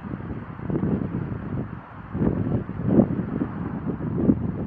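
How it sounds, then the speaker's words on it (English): Gusty, swirling outdoor wind buffets the microphone in rising and falling surges during an airgun shooting session, with stronger gusts near the end and no talk. "Nice swirling gusty wind."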